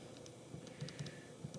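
Values entered on a calculator keypad, a soft run of quick, irregular button clicks, close but faint, with no talking.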